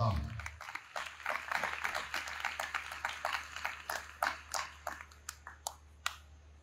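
A congregation in a Lahore Cantonment church applauds during a sermon on the Coronation of the Virgin Mary, with steady crowd clapping that thins into rhythmic, spaced claps, while a voice speaks over it.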